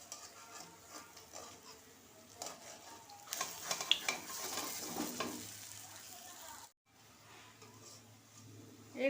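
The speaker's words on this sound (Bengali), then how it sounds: "এইরকম লাল লাল করে সবগুলো ভেজে নেব" Giant taro (mankochu) koftas frying in hot oil give a steady, close sizzle with stirring and light pan scrapes, swelling midway and briefly cutting out near the end.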